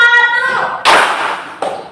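After a teacher's spoken cue, a class of pupils claps once in unison, a single loud broadband burst in a classroom, followed by a fainter second smack as it dies away.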